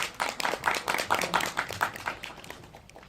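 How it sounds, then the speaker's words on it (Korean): A small audience at a cinema talk event claps for the cast of a newly released omnibus film. The sharp, quick claps are fairly faint and thin out toward the end. "박수 부탁드립니다"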